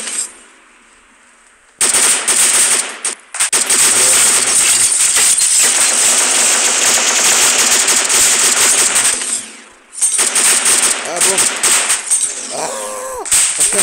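Shots fired in a shooter game played on a mobile phone: long, loud bursts of rapid gunfire with sharp crackling reports, broken by short quiet gaps.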